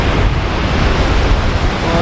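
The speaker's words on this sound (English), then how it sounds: "I hope the mic's not picking up that wind too strong" Strong wind buffets the microphone on a Baja California beach at Puerto Escondido, a steady loud rumble blending with the wash of surf throughout, with no break in the roar.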